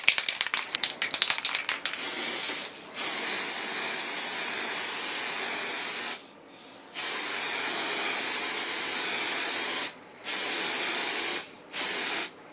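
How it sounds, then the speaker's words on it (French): An aerosol spray can is shaken with quick rattling clicks, then sprays in several long, loud, steady hissing bursts with brief pauses, used while refinishing a car hood with peeling clear coat. "Une petite pulvérisation un peu dans le vide pour voir si ça gicle pas normal"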